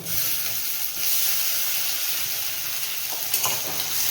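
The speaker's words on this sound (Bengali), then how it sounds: "সয়াবিনটা দেওয়ার পরেও আমি বেশ কিছুক্ষণ নাড়িয়ে নিয়েছি" Soybean paste fries in a pan with a loud, continuous sizzle and hiss close by, and a few scraping stirs toward the end; no talking.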